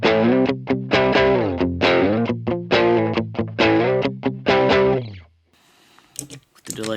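Electric guitar through a Boss OD-200 digital overdrive pedal, bridge pickup, gain rolled back, plays a rhythmic riff of chords and single notes, gritty and close, ending in a ringing fade followed by a brief rustle.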